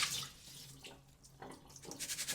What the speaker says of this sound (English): So I've got some water in there. You just want to swish it around